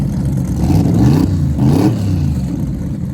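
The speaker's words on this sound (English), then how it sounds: "right there you can hear the engine revs of the G-Body Malibu" A turbocharged G-Body Chevrolet Malibu drag car revs twice in quick bursts at a drag strip in Muncie, rising and falling in pitch, loud and fairly close, with a rough idle between.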